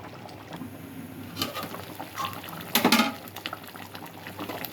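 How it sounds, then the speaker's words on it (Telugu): A pot of Nellore-style fish pulusu (curry) simmering, giving soft bubbling and gurgling with a few louder bursts of popping near the middle, close up and fairly quiet, with no voices. "పులుసు బాగా మరిగింది ఫ్రెండ్స్"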